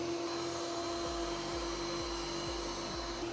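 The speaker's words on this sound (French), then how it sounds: "Ça en fait le premier aspirateur robot équipé d'un rafraîchisseur d'air." An Ecovacs Deebot Ozmo T9 robot vacuum cleaner runs with a steady, continuous motor whine and airflow hiss, with a low brush or drive tone that pulses in a regular rhythm roughly every half second.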